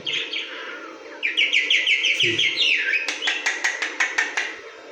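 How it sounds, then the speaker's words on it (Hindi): A myna bird gives rapid, bright chirping calls, then a rhythmic series of sharp repeated notes, loud and close, with a brief low voice speaking Hindi midway. "कैसे बोलती है हमारी मैना?"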